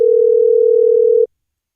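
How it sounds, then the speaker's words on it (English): An old-fashioned telephone line tone sounds as a single steady, loud mid-pitched tone lasting a little over a second before cutting off sharply, with no voices. "phone ring, if you will."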